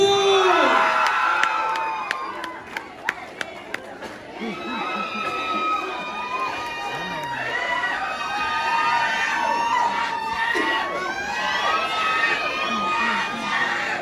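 Crowd at a movie premiere for Love thy Woman with Yam Concepcion, Xian Lim and Kim Chiu screams and cheers loudly and steadily, with high shrieks and whoops throughout, a few sharp claps early on.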